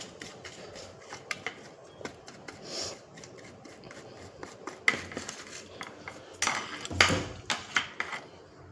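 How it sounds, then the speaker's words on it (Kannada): Chopsticks stir an oil mixture in a container, making close, irregular scraping and clinking knocks with rubbing strokes that grow busier and louder toward the end, with no voices. "ಆಮೇಲೆ ಚಾಪ್ ಸ್ಟಿಕ್ ಎತ್ಕೊಂಡು ಅಲ್ಲಾಡಿಸ್ಬೇಕು ಗೈಸ್. ನೋಡ್ಬೋದು ಮಿಕ್ಸ್ ಆಗ್ತಿದೆ."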